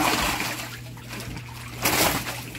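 Water splashes and sloshes as large fish are caught, a continuous wet churning that bursts louder near the end.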